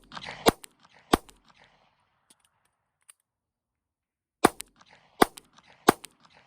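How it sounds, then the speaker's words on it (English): Sharp pistol gunshots crack at a police qualification range, a single shot followed by a pair, then after a quiet pause three evenly spaced shots. "We're gonna fire 3 shots at that target, that little bitty target down there."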